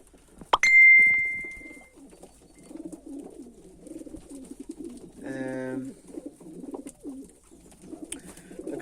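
Pigeons in a loft give soft repeated low coos throughout, close and clear, with a sharp clatter and tone early on and someone talking over them.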